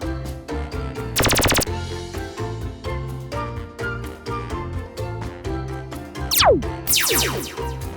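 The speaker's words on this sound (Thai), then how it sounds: "เลเซอร์วอเกมยิงปืนเลเซอร์" Rapid electronic zapping bursts from laser tag guns over steady pulsing background music, with repeated shots and a couple of sweeping sci-fi tones.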